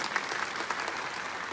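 A crowd claps at a Kshatriya community rally, giving a brief burst of dense, steady applause that sounds faint and somewhat distant.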